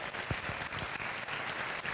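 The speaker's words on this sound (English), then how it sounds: "Do we have a round of applause for Erica Zweaifel?" Steady applause from an audience, a dense wash of clapping holding an even level throughout, fairly distant.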